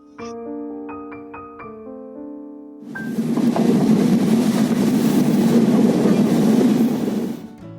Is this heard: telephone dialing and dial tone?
no